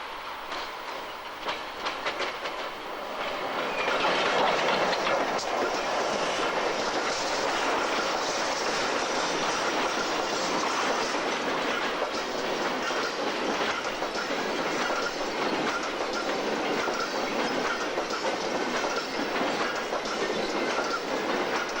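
Trains roll through the Irún and Hendaya border stations in the Pyrenees, a dense continuous rumble and clatter that swells after a few seconds and stays loud, with no voices.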